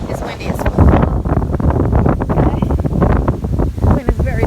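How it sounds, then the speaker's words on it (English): Strong wind on a Miami beach buffets the microphone in loud, continuous rumbling gusts, with a person talking over it throughout. "Wind is very disrespectful."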